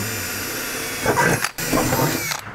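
Two close bursts of a power drill boring holes into a trash can, the motor whirring and briefly stopping between them before cutting off at the end.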